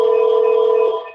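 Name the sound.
phone ringing or dialing during a video call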